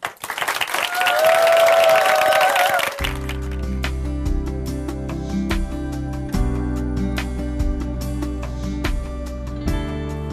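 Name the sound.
applause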